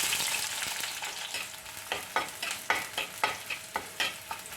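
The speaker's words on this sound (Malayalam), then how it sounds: "ഒന്ന് വഴറ്റി കൊടുക്കാം." Sliced onions sauté in hot coconut oil with popping mustard seeds for Kerala koorkka mezhukkupuratti, a continuous sizzle broken by a series of sharp scraping stirs in the second half, close and with no voices.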